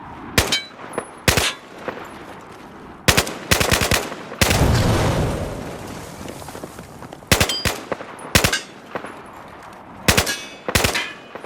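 ARX-160 rifle fire in the video game Battlefield 4: loud, close bursts of rapid automatic shots with metallic clinks, broken by short pauses, with a longer sustained noisy stretch in the middle.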